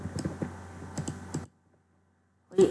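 Rapid computer clicks and key taps while building a Roblox game, a quick cluster of sharp close clicks, then silence, then one more burst at the end.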